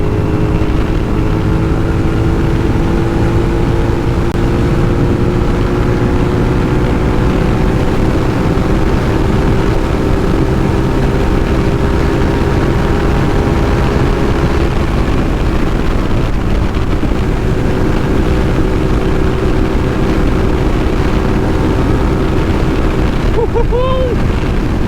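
A 2006 Suzuki SV650 motorcycle engine held at high throttle, a loud, steady droning roar with sustained harmonic tones that slowly shift pitch over about 25 seconds, carrying on continuously with heavy wind noise.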